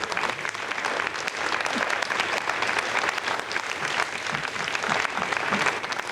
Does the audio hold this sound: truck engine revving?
no